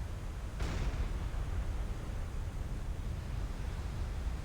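A ship torpedoed in the submarine game Silent Hunter 5 blows up: a sudden broad blast early on, then a low, rumbling roar that continues steadily without speech.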